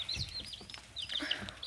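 Young spring chicks cluck and peep in a run of soft, repeated bursts, close by, over a quiet room background with no talking.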